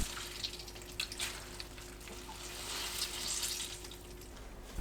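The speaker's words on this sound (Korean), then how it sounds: "물 짭니다." Blanched seaweed is squeezed by hand, water trickling and splattering into a sink in a steady, wet rush with small squelches, close and fairly quiet.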